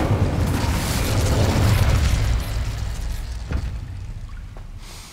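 Incendio fire spell cast in Hogwarts Legacy: a loud whooshing burst of flame that roars for about two seconds, then settles into a fainter crackling fade, with no speech over it.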